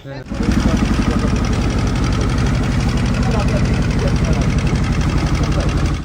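A trawler boat engine in the Sundarbans runs steadily and loud, a continuous rhythmic throbbing chug from start to finish with a voice talking faintly underneath.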